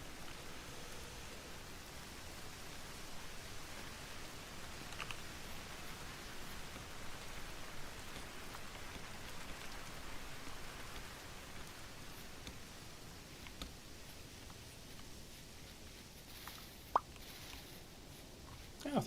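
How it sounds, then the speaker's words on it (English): Steady rain falling in a survival video game, a continuous soft hiss of drops with occasional plops, with a voice speaking faintly beneath it. "Oh, and it's raining."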